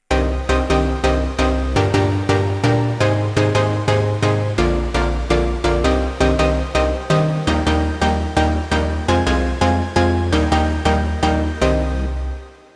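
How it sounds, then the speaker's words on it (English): A stacked, powerful synth lead on an Elektron Digitone 2 plays a rhythmic melodic pattern over a heavy pulsing bass line, with punchy evenly spaced notes, loud and steady throughout with no talking. "and somewhat powerful lead sound which could sound like this."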